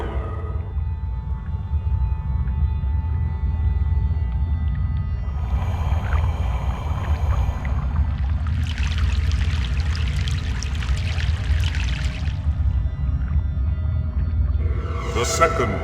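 River water in Broken Sword 3: The Sleeping Dragon, a continuous low rush with a pouring, splashing swell in the middle, loud and close, no talking.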